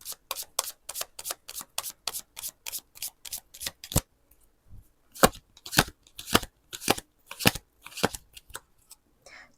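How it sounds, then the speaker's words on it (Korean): Tarot cards being shuffled by hand in a quick run of crisp riffling flicks, a short pause, then another burst of snappy card slaps and draws, close and dry. "타로 카드 2장으로 한 번 더 뽑아 볼게요."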